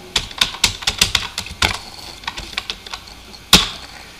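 Someone types a password on a computer keyboard, a quick burst of sharp, close clicks followed by slower scattered taps and one final louder keystroke, with no talking.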